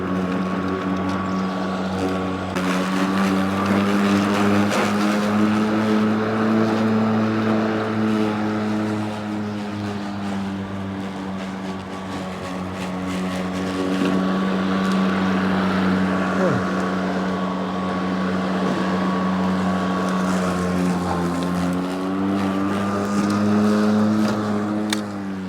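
A garden trimmer runs outdoors with a steady, buzzing motor whine that rises and falls slightly as it works, holding continuously throughout at moderate volume.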